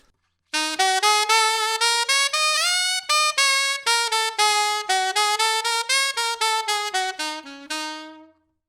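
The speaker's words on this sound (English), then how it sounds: "if we do that exact same thing and we just straighten out those eighth notes" A bright synth-like melody played in even, straight eighth notes, steady and articulated, with a few held notes and a sudden stop near the end.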